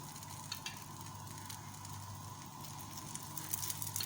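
Ghee sizzling under a fish paratha on a hot griddle, a steady soft crackle and hiss that holds evenly throughout at low volume.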